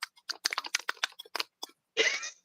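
Paint being mixed by hand gives quiet, quick sticky clicks and wet taps in an uneven rhythm, ending in a short, brighter scraping swish, close up with no talking.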